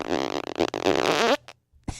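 A person imitates a long, loud fart with their mouth, a buzzing, sputtering raspberry that wavers in pitch, breaks off, then ends in a short final burst.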